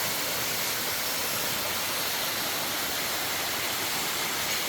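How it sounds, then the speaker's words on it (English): The 7 Gozel Waterfall in Gabala, Azerbaijan roars as a dense, steady rush of falling water, loud and unbroken throughout with no voices. "hear the roaring sounds of the waterfall as you get closer"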